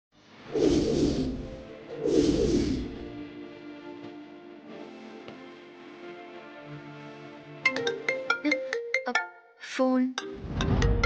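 A mobile phone ringtone chimes in a domestic TV-drama scene, a bright repeating melodic pattern that starts abruptly after earlier speech and plays loudly and close, with a brief pause before continuing.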